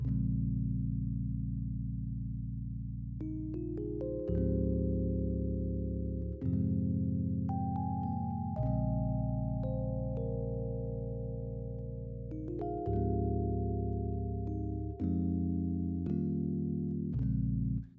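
Electric piano plugin plays a slow chord progression in an amapiano style, sustained chords changing every couple of seconds over a deep bass, with bright note attacks on top, steady and close with no talking.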